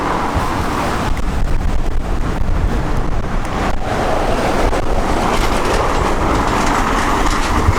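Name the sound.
thin-tyred bike riding over brick paved road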